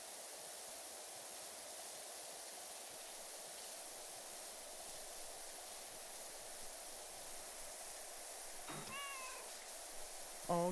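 Cat meow sound effects from the video game PowerWash Simulator 2, a brief meow near the end over a steady loud hiss of spraying water, with no talk.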